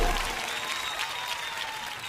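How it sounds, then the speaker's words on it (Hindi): Steady audience applause at a comedy poetry gathering (kavi sammelan), a continuous wash of clapping hands from a crowd, fairly loud and fading slightly toward the end. "एक बात तालियां बजाकर मन दे"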